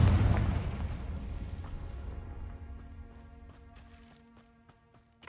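An explosion from the Confringo spell in the video game Hogwarts Legacy: one loud, deep blast that rumbles and slowly fades over several seconds, with scattered small crackles and taps as it dies away.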